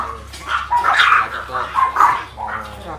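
Caged pet chihuahuas give a run of sharp, high yips and barks, several bursts close by in quick succession, with a low steady hum underneath.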